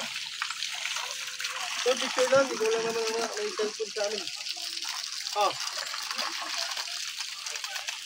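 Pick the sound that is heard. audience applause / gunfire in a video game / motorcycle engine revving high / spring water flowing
spring water flowing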